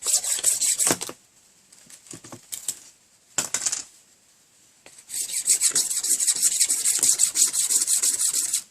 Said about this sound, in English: Now, let's scrape up a tinder bundle.